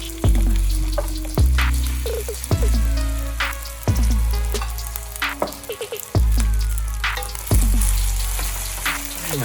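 Shrimp fried rice stir-frying in a hot pan, a steady loud sizzle broken by repeated tossing strokes, each bringing a burst of frying and a scrape, close up with no talk.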